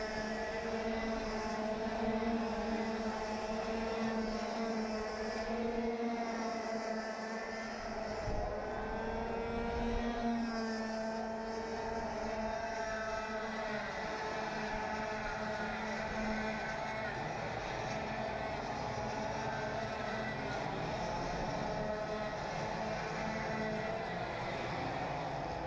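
KA4 Junior racing karts at the 2020 Carnival of Karts pour onto the Arise Racing main straight, a continuous, fairly loud mass of buzzing engine whine with shifting pitch as the field passes, with no voices.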